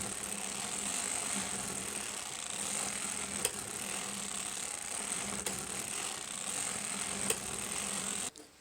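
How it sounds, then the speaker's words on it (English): A circular sock knitting machine being cranked through rows for a sock ankle gives a steady, even mechanical whir with a faint ratcheting texture, continuing alone and at moderate level before stopping abruptly at the end. "I then crank 20 more rows"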